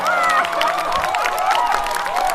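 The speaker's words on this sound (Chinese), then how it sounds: "掌声送给这2个" A studio crowd applauds and cheers for two people on stage at a Chinese stand-up comedy show, a steady wash of clapping filling the short moment without a pause.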